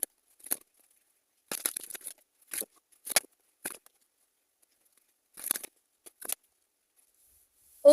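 Tarot cards being shuffled close up in short papery bursts, a few quick riffles and slides separated by silent pauses, quiet and with no talk.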